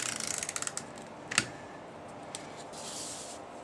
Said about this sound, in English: We're just going to run some snail along the back side of this satin ribbon.